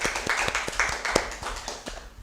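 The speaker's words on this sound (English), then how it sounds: "A round of applause for our candidates." Audience applauding debate candidates at a national youth debate, a steady patter of claps from a modest crowd filling the whole moment without speech.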